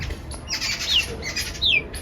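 Bulbul birds calling noisily at a home aviary, with two sharp, falling chirps over a busy background of squawky bird chatter.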